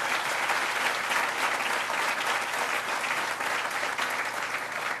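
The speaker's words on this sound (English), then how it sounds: "Let's give a round of applause for Mayor Brown." A crowd at a Hispanic Heritage Month celebration in New York gives the mayor a sustained round of applause, a thick, steady roar of many clapping hands lasting several seconds without speech.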